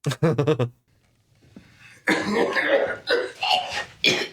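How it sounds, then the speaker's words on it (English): An actor in Breaking Bad gives a short burst of several quick coughs up close, then a pause followed by a rougher, drawn-out throaty hacking with a few more coughs. "He does such a good job of making that cough sound convincing"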